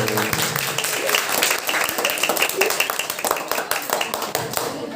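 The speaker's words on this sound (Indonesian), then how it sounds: "Tepuk tangan dulu." An audience at a children's preaching competition claps in a busy, uneven patter of hands, with voices and crowd noise mixed in throughout.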